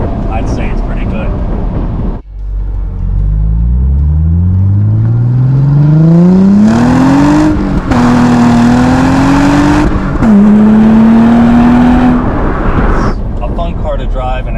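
Mazda Miata with a 6-speed manual heard from inside as it pulls away, engine note climbing steadily through the revs, a brief drop at a gear change, then rising again before settling, loud and close.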